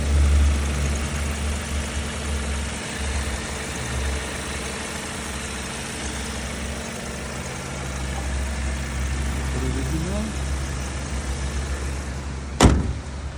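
A 2020 Volkswagen Tiguan Allspace 4Motion with the 2.0 TSI engine and DSG gearbox idles in a steady, low, even hum up close, broken near the end by one sharp click.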